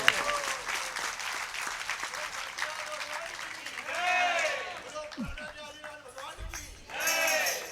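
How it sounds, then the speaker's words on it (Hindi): Applause breaks out from an audience gathered for a Jain religious sermon at Ashoka Garden in Bhopal, sustained clapping that swells and fades with murmuring voices mixed in. "पहले अच्छे से ताली तो बजाओ।"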